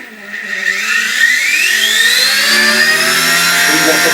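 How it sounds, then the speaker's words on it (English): A small WLtoys Power Star X1 RC helicopter flying indoors whines loudly and close by, its rotor pitch sweeping steadily upward as it spins up and holds a high, buzzing drone. "Helicopter indoor flying."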